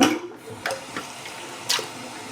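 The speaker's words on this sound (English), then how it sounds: "Let's just rinse off real quick." Tap water runs steadily at a sink while someone rinses off after a shave, a continuous close splash broken by a few brief sharper bursts of water.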